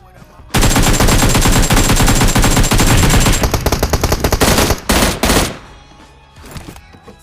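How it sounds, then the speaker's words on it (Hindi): Sustained automatic gunfire in the mobile battle royale game PUBG Mobile, loud and close, a dense rapid burst lasting several seconds that breaks into a few shorter bursts before fading out. "तो तभी मुझे स्क्वाड हाउस की साइड से फायर आता है"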